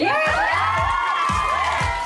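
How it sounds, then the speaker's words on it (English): A group of girls scream together in high, sustained, excited shrieks on a sleeping porch, loud and close, with a rising and falling chorus of voices and no clear speech. "They scream at the sleeping porch."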